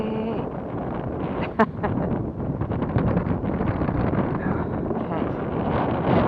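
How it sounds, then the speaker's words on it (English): Wind gusting over open water on a kayak fishing trip, a steady rushing roar buffeting the microphone throughout, with a short exclamation and a few spoken words on top. "Wind's picked up."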